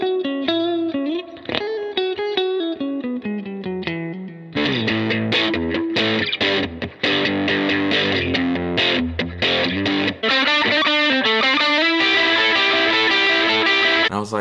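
Electric guitar, a Stratocaster, played through heavy distortion with effects, running loud and continuous as a riff of sustained chords and single notes.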